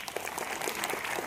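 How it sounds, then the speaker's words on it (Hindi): An audience bursts into loud, dense applause at a talk on road safety and helmets, sustained clapping from many hands that fills the room without pause. "एक जोरदार तालियां बजाएं।"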